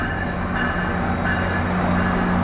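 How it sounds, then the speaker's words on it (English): A MARC commuter train rumbles steadily at a station platform, a continuous low, even drone of engine and rolling stock with no pauses or talk. "It's a MARC train."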